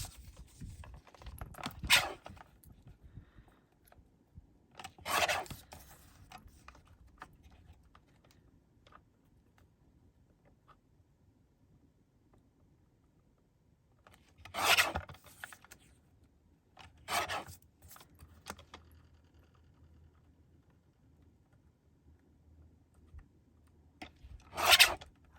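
Cardstock being trimmed for a handmade card gives a few short, close rasping swipes spaced apart by quiet pauses, with a faint low hum underneath.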